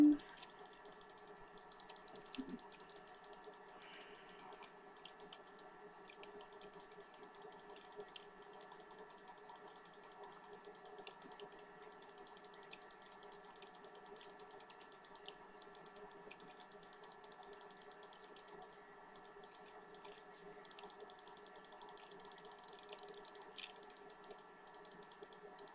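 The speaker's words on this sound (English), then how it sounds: "Probably hearing a lot of clicking right now." Fast, steady mechanical clicking from the Robux Simulator video game runs nonstop at a constant moderate level, with a faint tonal hum underneath and no talking.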